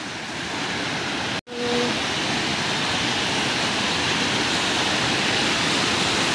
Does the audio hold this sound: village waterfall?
yes